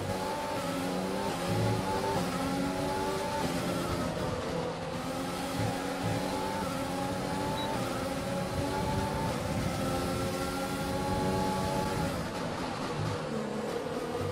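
An F1 car with a slightly worn engine in the F1 2020 game at the Singapore Grand Prix, its high engine whine holding loud and steady with repeated rising pitch sweeps through gears, no talking.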